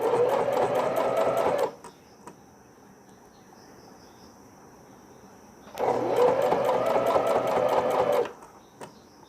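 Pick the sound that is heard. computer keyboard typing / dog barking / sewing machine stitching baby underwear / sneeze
sewing machine stitching baby underwear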